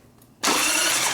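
A Harley-Davidson Sportster engine cranks and catches abruptly after a quiet moment, then holds a loud, steady running roar close by, with no talk over it.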